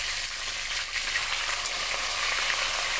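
Dhela fish frying lightly in a pan for a sour mango fish curry, giving a steady, close, dense sizzle that holds evenly throughout with no talking.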